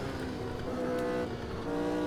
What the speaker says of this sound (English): let's go for a somewhat decent flying lap here